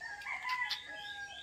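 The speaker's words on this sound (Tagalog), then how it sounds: "Daming ano, daming manok oh." A rooster, one of many chickens kept as fighting cocks, crows once in a short rising call, fairly close and clear over faint background noise.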